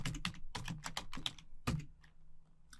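Keys clatter steadily on a computer keyboard in a quiet room, the clicks close and fairly loud and arriving in quick irregular bursts, with a short pause before a final few taps.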